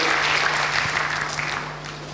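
Applause from a church congregation during a French-language worship service, a steady wash of clapping that tapers off slightly toward the end, with no talk over it.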